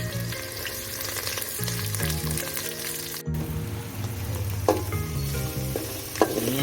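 Onions sizzle steadily in a hot pan while being stirred for colour rice, a continuous frying hiss with occasional clinks from the utensil.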